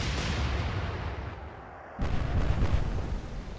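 Naval guns firing shells in the Atlantic Fleet video game, a heavy booming roar with a sudden renewed blast midway, loud and sustained with no talk.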